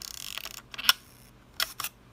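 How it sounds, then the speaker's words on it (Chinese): A Minolta Uniomat mechanical film camera firing its shutter: a few crisp, close mechanical clicks spaced under a second apart against a quiet background. "快门正常可动"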